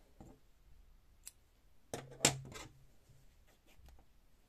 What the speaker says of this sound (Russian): Все, обрезаю ниточку.